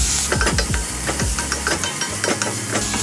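Vegetables sautéing in a pan with coriander powder and turmeric for a veg pulao, a loud close sizzle punctuated by a quick run of scraping, rattling stirs from a utensil.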